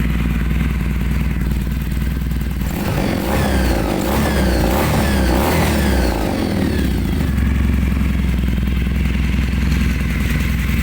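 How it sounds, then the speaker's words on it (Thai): A 2017 Kawasaki W800 motorcycle with an RKD titanium exhaust revs up and down with a throaty, rattling exhaust roar, close and loud, no talking. "เดี๋ยวผมจะพาไปฟังเสียงท่อ RKD"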